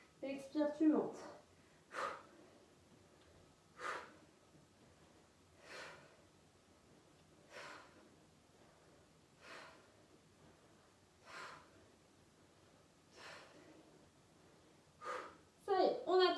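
During a French strength workout on the floor, a person breathes heavily in a steady rhythm, with about eight strong, close exhales spaced roughly two seconds apart, and faint talk at the start and end.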